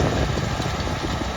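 Farm tractor engine running steadily while cultivating a dusty field with discs, levelling board and packer, a continuous loud low rumble with no talk.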